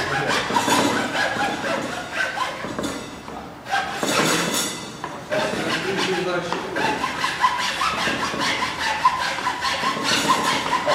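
A hand saw cuts back and forth through a wooden broom handle in a rhythmic run of rasping strokes, loud and close, with a brief pause partway through and voices in the background.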